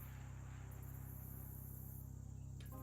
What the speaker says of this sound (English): Distant frog sounds become less distant frog sounds as you find yourself very close to a lot of frogs